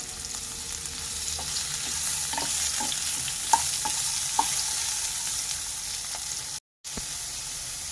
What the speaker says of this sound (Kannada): ನಾನಿಲ್ಲಿ ಒಂದು ಈರುಳ್ಳಿನ ಉದ್ದಕ್ಕೆ ಹೆಚ್ಕೊಂಡಿದ್ದೀನಿ. ಈಗ ಇದನ್ನು ಫ್ರೈ ಮಾಡ್ಕೋಬೇಕು.